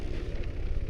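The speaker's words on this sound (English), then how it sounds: "Oh, black hole grenade." A black hole grenade going off in the video game Totally Accurate Battlegrounds (TABG), heard as a brief, steady, low rumbling roar at moderate volume with no voices over it.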